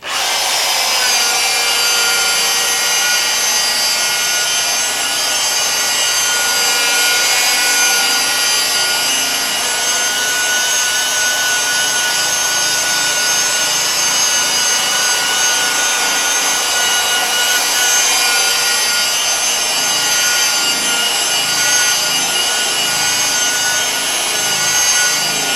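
A machine polisher works compound into the clear coat of a 2006 BMW 530i. It makes a continuous high whirring buzz with a faint rubbing texture, and it stays loud and steady throughout with no talk.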